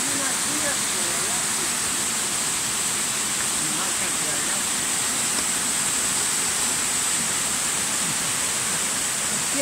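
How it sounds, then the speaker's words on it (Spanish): A waterfall below a ravine gives a constant, even hiss of rushing water at moderate distance, with no breaks through the whole stretch. "la cascada está abajo y ya está como quebrada abajo"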